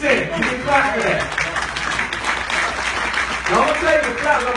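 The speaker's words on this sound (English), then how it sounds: "You can clap for that." Audience applause from a crowd at a company presentation, a steady dense clapping that fills the whole stretch with no clear break.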